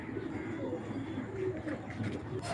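A red-eyed pigeon among fancy high-flyer breeds coos softly in a loft, low repeated cooing with other birds faintly chirping nearby.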